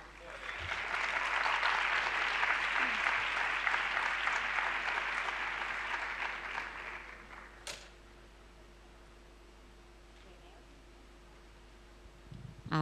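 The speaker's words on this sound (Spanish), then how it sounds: "le dierais un aplauso al CPR por lo bien que organiza" Applause from a Spanish education training audience at a magic-tricks workshop for the CPR organizers: a broad, steady wash of many hands clapping for about seven seconds, then fading to quiet room tone with a faint sharp click.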